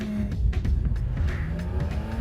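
BMW E46 M3 with only an intake and exhaust upgrade, on coilovers, driven hard on track; engine rises and falls in rapid revs with some tire noise, moderately close.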